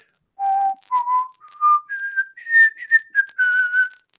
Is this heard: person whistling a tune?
yes